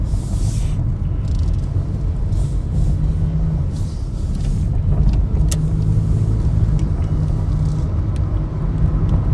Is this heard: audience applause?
no